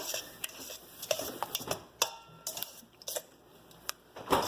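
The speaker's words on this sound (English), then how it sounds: "So then I'm just gonna mix it in." A spoon stirs sour cream into strawberries and cream in a bowl, with soft wet scraping and repeated light clinks of utensil against the dish at an irregular rhythm, fairly quiet and close.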